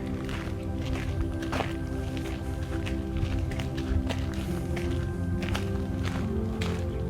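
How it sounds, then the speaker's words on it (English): Steady footsteps thud along at a walking pace, with sharp scuffs and taps standing out over a constant low rumble of background noise. "The sounds of your footsteps."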